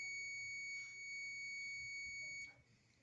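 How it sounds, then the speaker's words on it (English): An emergency call button being tested gives a faint, steady electronic beep that holds for about two and a half seconds and then stops, with a low hum underneath. "Hear it beep when you push the button?"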